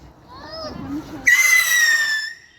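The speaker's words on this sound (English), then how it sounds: "We're setting off a firework this time." A firework set off outdoors on bonfire night: a rising whistle shoots up and then holds as a loud, sustained shrieking whistle, with faint voices underneath before it.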